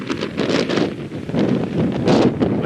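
Strong wind gusts buffet the microphone at the Devonport ferry dock in New Zealand, giving a loud, rumbling roar that swells and eases in uneven surges throughout, with no voices.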